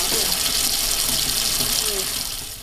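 Gas hissing and aerating out of a running kitchen water tap in a home with fracking-contaminated well water, a steady broadband rush of water and fizzing, close and continuous, fading slightly at the end.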